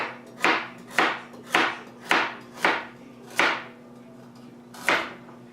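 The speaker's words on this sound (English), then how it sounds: "we're going to cut the carrots. And we've got 4 carrots here. And you're just going to chop them up" A knife chops carrots on a board with sharp, close knocks, about seven cuts at a steady pace with a brief pause before the last, and no talking.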